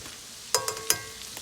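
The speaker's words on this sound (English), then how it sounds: "I'm gonna let this saute for about a minute and then I'll be back" Venison gravy sauteing in a pan on the stove, with two or three sharp scraping stir strokes over a soft steady sizzle, close and fairly clear.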